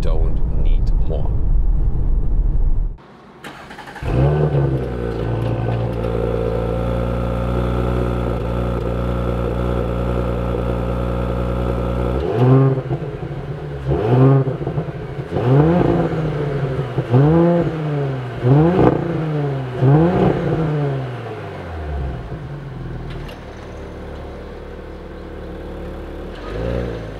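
A 2017 Audi A5 Sportback S line engine hums steadily at first, then revs in a rapid series of rising surges as the car accelerates, loud and close, fading toward a calmer drone at the end.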